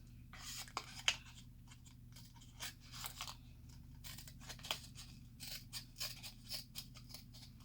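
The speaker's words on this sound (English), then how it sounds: "you can just get your scissors right in there and trim off that piece" Quiet, intermittent snips and crunchy cuts of scissors trimming cardboard, irregular short bursts over a low background hum.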